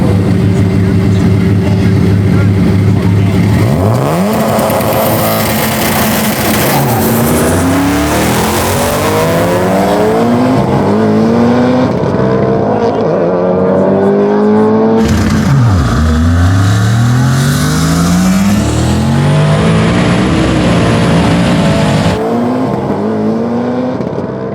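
Two drag cars, a 1150 hp Subaru WRX STI and a twin-turbo Ford, idle loudly then launch hard, engines screaming up through repeated gear shifts with rising and falling revs, staying loud and close throughout.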